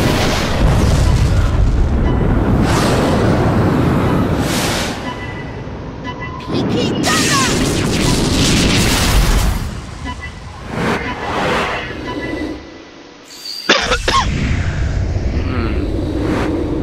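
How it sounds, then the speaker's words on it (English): A bomb explodes in Super Smash Bros. Brawl on the Wii: loud booming bursts and crackling blasts over in-game music, with speech in between. "Of course, a bomb."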